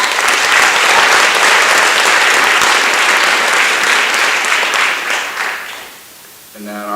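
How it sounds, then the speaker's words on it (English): A crowd at a high school athletic awards event claps for the wrestlers who placed: loud, full applause that holds steady, then fades near the end as a voice starts speaking. "Let's give those guys a round of applause."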